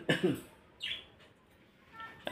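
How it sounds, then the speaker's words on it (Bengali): Budgerigars kept four together in a home cage give a few short, close chirps and squawks separated by quiet gaps. "চারটে পাখি এক জায়গায় রয়েছে খাঁচাতে"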